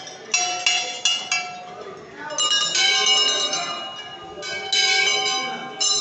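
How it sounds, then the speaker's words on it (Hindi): Metal temple bells ring at Taratarini Temple, with several bright clanging strikes in overlapping bursts whose tones ring on and fade over a bustling background. "घंटी बजे"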